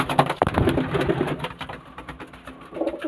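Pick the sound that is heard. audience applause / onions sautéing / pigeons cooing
pigeons cooing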